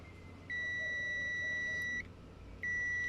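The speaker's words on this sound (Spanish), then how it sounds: "Este multímetro cuenta con una alarma, en este caso de tipo sonora." Multimeter in continuity mode with its probes touched together, two loud steady high beeps, the first lasting about a second and a half, then a short gap before the second starts.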